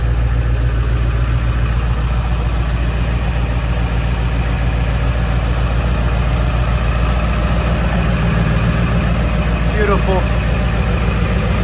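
A 2003 Ford F-250 with a 7.3L Power Stroke diesel idles in a loud, steady, low rumble that runs unbroken from start to finish, while someone speaks briefly over it.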